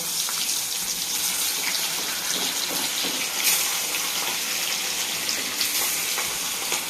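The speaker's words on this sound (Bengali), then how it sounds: "আমি মাছগুলোকে ভেজে নেব" Fish pieces frying in mustard oil in a home kitchen, a steady dense sizzle and crackle running throughout, close and fairly loud, with faint splashes and clinks and no talking.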